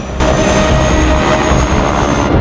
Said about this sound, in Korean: 하지만 마지막 비행기가 이륙하려 하고 있죠.